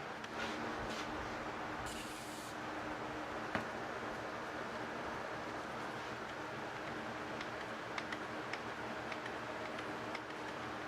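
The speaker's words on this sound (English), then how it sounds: "If you have a sticky chuck like this, spray some lube down in it." Lubricant is sprayed into the sticky chuck of a DeWalt DW130 drill, with a brief hissing burst early on amid soft handling noise and scattered light ticks and clicks up close.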